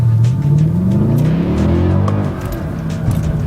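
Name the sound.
Mercedes-Benz E63 AMG accelerating in first gear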